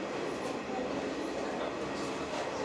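Steady rumble of the SL Hitoyoshi steam locomotive train running, heard from inside a carriage, with continuous wheel and rail noise climbing a steep section, loud and unbroken throughout.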